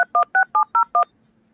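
Six crisp telephone dialing tones beep in quick, even succession, loud and close, then stop and leave near silence with a faint low hum.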